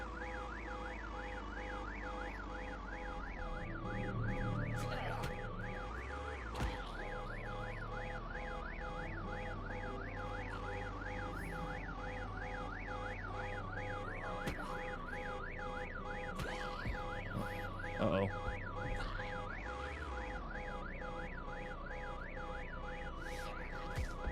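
A car alarm in the video game VEIN wails without pause in a repeating, warbling cycle of rising and falling tones, loud and steady throughout over a low background hum.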